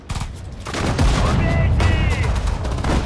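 Rapid machine gun bursts from the WWII strategy game Sudden Strike 4, Battle of Stalingrad, loud and sustained with dense crackling shots, while a voice gives orders over the firing.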